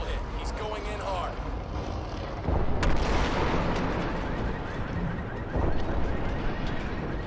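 A missile strike in the shooter game Crysis 2 brings a heavy booming blast and rumbling debris. It rises over a dense, continuous battle din with gunfire, while a voice talks over the action.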